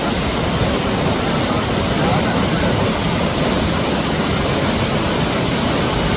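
A waterfall in Sri Lanka pours down from a mountain ridge, making a loud, steady, unbroken roar of rushing water that fills the whole scene without a break.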